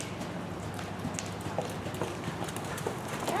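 Horse hooves during a riding lesson, a steady rapid clip-clop of a horse working in an arena at close range, continuous with no talk over it.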